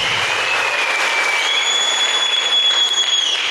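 A seminar audience claps loudly and continuously throughout, a thick even wash of applause with a faint high whistling tone running through it.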